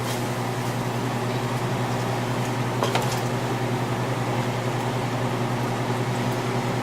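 A pot of pasta sauce comes to a boil with a steady bubbling and hissing simmer beneath a constant appliance hum, plus one brief clink near the middle, and no one speaks.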